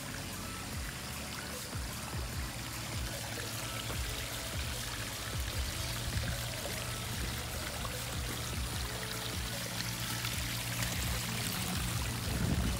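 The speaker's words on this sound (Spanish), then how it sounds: "Bonito nacimiento de agua ahí." Water from a natural spring pouring and trickling continuously outdoors, a steady close splashing wash that holds level throughout with no voices.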